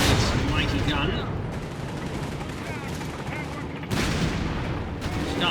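Automatic machine-gun fire in Company of Heroes 3, a Wehrmacht versus US Forces match, rattling in dense continuous bursts with booming impacts and battle noise filling the whole stretch.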